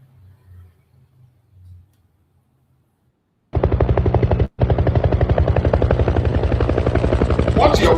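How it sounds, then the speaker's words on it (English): Helicopter flying over forest in northern Nigeria: after a few seconds of near silence a loud, steady rotor thump and engine roar start abruptly, cut out for a moment, then continue close and constant. "What you're watching is helicopter"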